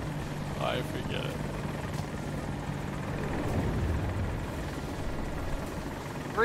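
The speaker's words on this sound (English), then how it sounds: "Three helicopters towards our left side." A steady helicopter rotor thrum drones continuously in the video game Battlefield 2042, with faint chatter and occasional muffled voices beneath it.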